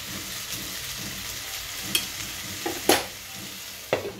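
Fish fat and the other ingredients for a Bengali chochchori sizzle steadily in a pan while a spatula stirs them, with a few sharp scrapes and knocks against the pan near the end and no voices.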